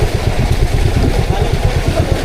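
A motorcycle engine with a misfiring fault runs continuously close by, its low uneven pulsing and clatter steady throughout the short stretch with no talk over it.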